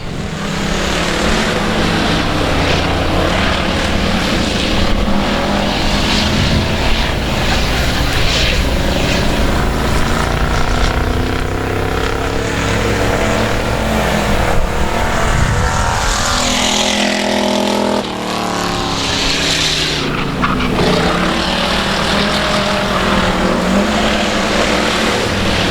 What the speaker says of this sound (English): Here comes the 4W car. Ricky Rogers racing to the start-finish line.